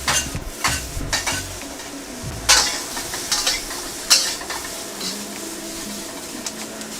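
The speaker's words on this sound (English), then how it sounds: "So I'm just giving my wok a toss." Thai drunken noodles (pad kee mao) are stir-fried in a wok, with sizzling, clanking metal and repeated scraping tosses in an irregular rhythm, close and moderately loud.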